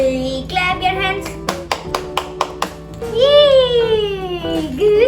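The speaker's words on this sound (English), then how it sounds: "Clap your hands." A baby clapping her hands, a quick run of about half a dozen sharp, close claps amid high-pitched child vocalizing and an adult's cheerful voice.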